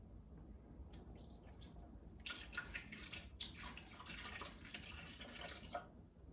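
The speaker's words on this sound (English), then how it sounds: "I'm going to do a cup of orange juice and I'm going to fill it up right here" Faint orange juice pouring and splashing into a cup in a few bursts, with small drips and gurgles, close by against a quiet background hum.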